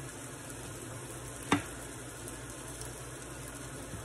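Chicken breasts cook over moderate heat in a pan, giving a quiet, even sizzle with a single brief clink partway through.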